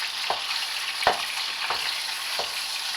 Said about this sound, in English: I'm just chopping that all up while it's starting to cook.